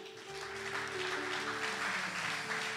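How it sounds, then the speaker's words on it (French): A church congregation applauds in praise during a worship service, a sustained ripple of clapping that builds slightly and stays steady, with a faint held musical tone underneath. "On donne une offrande d'acclamation à notre Dieu."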